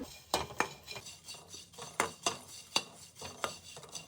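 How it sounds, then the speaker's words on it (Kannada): Dried prawns are roasted in a pan while a metal spoon stirs them, giving a quiet, uneven series of sharp scraping clinks against the pan. "ಇವಾಗ ಒಣ ಸಿಗಡಿನ ರೋಸ್ಟ್ ಮಾಡ್ಕೋತಾ ಇದ್ದೀನಿ."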